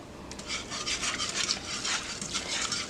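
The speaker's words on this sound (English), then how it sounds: "I'm going to whisk it because it's easier to whisk it." A whisk works cornmeal and milk in a pot over medium-high heat, giving rapid, steady scraping strokes close up with a bright, rhythmic swish and no talking.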